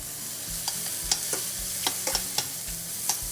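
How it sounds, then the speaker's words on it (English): Onions frying in a hot pan, a steady close sizzle broken by several sharp clicks and scrapes of stirring, with no voices. "That pan was nice and hot, so I can probably get some onions going in there now"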